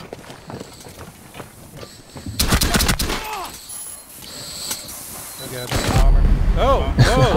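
Gunfire in Rainbow Six Siege during a Chalet terrorist hunt, with bursts of shots and impacts building from the middle to the end, loud and close, mixed with game sounds and occasional voices.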